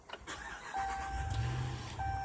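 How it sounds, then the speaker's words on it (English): A 2013 RAM 1500 Sport Hemi pickup engine cranks briefly with a few chugs, catches, and settles into a steady rumbling idle close by. "it has a remote start, but turn it over real quick"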